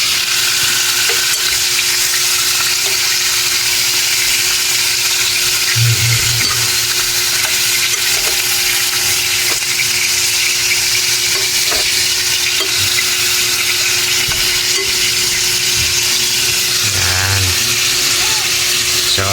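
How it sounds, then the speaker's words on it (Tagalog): Squid frying in a pan is stirred with a spatula over a loud, constant close sizzle, with a few scraping knocks and faint background hum throughout. "so haluin natin"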